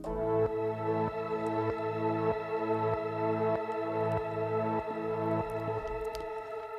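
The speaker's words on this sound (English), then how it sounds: "This one here is like a dark pulsing synth." A dark pulsing synth layer throbs in an even, steady rhythm of about two pulses per second, a low droning tone swelling on each beat, moderately quiet and heard alone.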